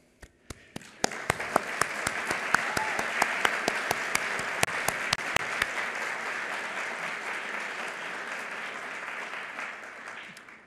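An audience bursts into applause at a community-building event for global alumni, starting with a few sharp individual claps that swell into steady clapping, then slowly thin out and fade.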